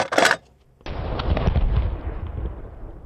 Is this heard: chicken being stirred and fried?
no